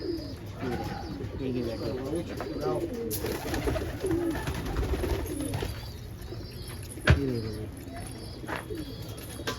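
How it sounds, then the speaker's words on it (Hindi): Lalpare laldum pigeons coo in a steady, overlapping murmur close by, with a wing flap or sharp knock here and there, while someone talks over the birds. "शानदार कबूतर है भाई"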